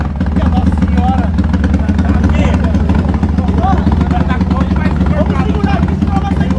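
A Honda Today scooter engine, enlarged to 371cc, runs loud and steady on a dynamometer, with a continuous low droning rumble and people talking over it.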